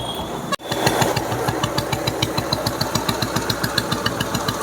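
A 1986 vintage Bullet motorcycle engine starts up, then settles into a loud, close, evenly spaced thumping idle, each beat distinct and regular.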